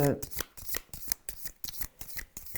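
Tarot cards are shuffled close by in quick, uneven bursts of soft riffling and slapping, and a voice speaks briefly at the start.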